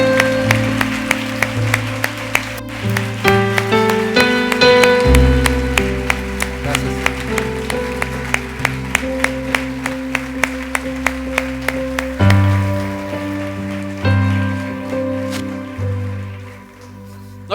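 A church congregation claps in steady rhythm over sustained keyboard or organ chords during worship, the sharp claps evenly spaced and fairly loud throughout.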